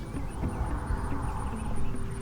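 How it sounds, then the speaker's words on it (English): Bees buzz around cucumber flowers in a garden after rain, a soft, continuous insect drone held at a low, steady level throughout. "The bees love the cucumber flowers too. They are really buzzing out here."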